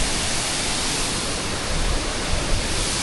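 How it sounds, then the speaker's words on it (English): A waterfall roars as a steady, dense broadband rush, close and loud with no pauses, during a waterfall-chasing outing in Moalboal. "It's a very cool waterfall."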